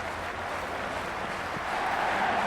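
Stadium crowd noise from the Cricket 26 video game during a Big Bash League match between Hobart Hurricanes and Sydney Thunder: a steady, dense roar of spectators that swells slightly near the end, with no talk over it.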